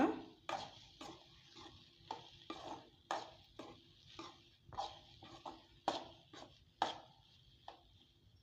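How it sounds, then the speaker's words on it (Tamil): Egg and bread being stir-fried in a pan: a spatula scrapes and turns the food in a steady series of short, close strokes, with a light sizzle underneath and no talking. "நல்லா வந்து எல்லா பக்கமும் பெரட்டி நல்லா மிக்ஸ் பண்ணி விட்டுக்கோங்க"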